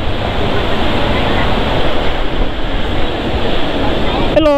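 Ocean surf rushes steadily with heavy wind buffeting the microphone at Batu Bolong beach, Canggu, Bali. A voice briefly starts at the very end.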